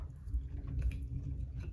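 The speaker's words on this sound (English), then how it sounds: "Take a bite. We're gonna try our sushi rolls." Someone chews a bite of spicy sushi roll with cream cheese close to the microphone, giving soft, moist, steady mastication sounds with no talking.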